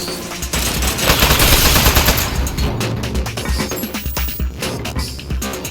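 A turret opens fire in the video game Aperture Desk Job, rapid loud automatic bursts at close range, rattling continuously before breaking into sharper separate shots.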